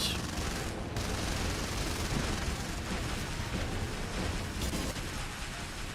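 Robot guns firing in War Robots, a dense, continuous barrage of rapid gunfire and blasts that stays loud and close throughout, with sharper bursts standing out from the roar.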